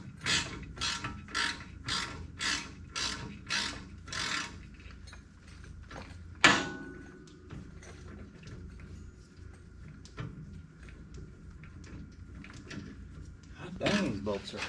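A ratchet wrench turns long coilover bolts on a GTO in a run of about eight quick, evenly spaced ratcheting bursts, followed by a sharp clank and quieter scattered clicks, with a low voice near the end.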